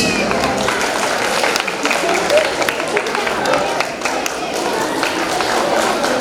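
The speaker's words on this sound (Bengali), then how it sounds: "এই যে হাততালিটা শুনতে পাচ্ছি, আমার খুব ভালো লাগছে" Audience applause fills a hall at a cultural centenary event in Taki, a steady, dense wash of clapping that holds at an even level for the whole stretch, with faint crowd murmur mixed in.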